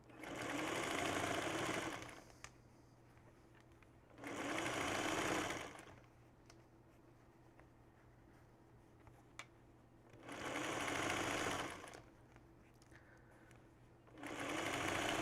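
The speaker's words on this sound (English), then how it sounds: "I'm going to sew all the way off on the end and then onto my leader ender" A sewing machine runs stitches through quilting fabric pieces in bursts of about two seconds, four loud whirring runs separated by quiet pauses with a faint hum between them.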